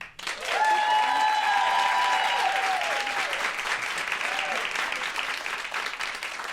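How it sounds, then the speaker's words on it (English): A live audience applauds steadily for several seconds as a clapometer vote, with dense, loud clapping, a few whoops rising over it, and the applause slowly thinning toward the end. "Please clap now."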